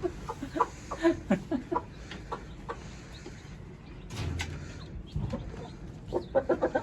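A rooster and hens cluck in short, scattered bursts at moderate distance, with rustling and scuffling between the calls and no clear talking.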